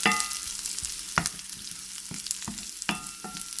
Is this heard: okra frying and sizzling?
yes